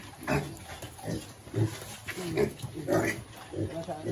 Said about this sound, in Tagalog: So ayan na yung ating baboy.